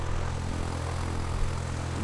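Steady propeller airplane engine drone from the Poptropica video game, a continuous low hum with even harmonic buzz that holds at constant loudness throughout, with no talking over it.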